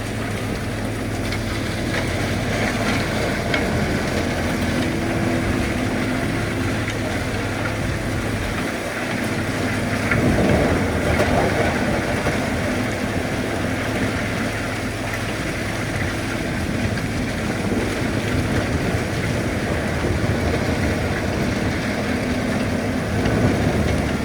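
Muzmax wood chipper driven by a big Xerion tractor runs at a steady, loud mechanical roar with a constant engine drone, swelling slightly as material feeds through.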